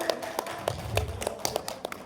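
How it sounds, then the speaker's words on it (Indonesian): A small audience claps at a poetry anthology launch, sparse, distinct hand claps spaced out in a loose rhythm, close and moderately loud, with faint room murmur underneath. "Ya, tepuk tangan Bapak Ibu."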